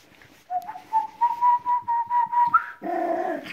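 Three-week-old Airedale Terrier puppies whimper in a long, thin, wavering whine that rises and pulses close by, ending in a short rougher yelp.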